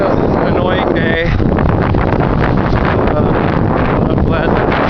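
Cold wind buffets the microphone during a long cross-country walk, a loud continuous low roar with gusty rumble throughout, and faint voice-like tones showing briefly through the noise.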